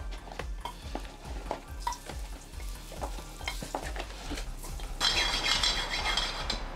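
Pre-fried chicken nuggets deep frying in hot oil give a steady crackling sizzle, with a rhythmic series of soft stirring clinks from a utensil, and the bubbling grows louder and brighter toward the end.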